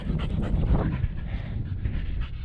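A dog on a mountain bike trail pants rapidly and steadily at close range, the rhythmic breaths continuing throughout with faint outdoor background noise.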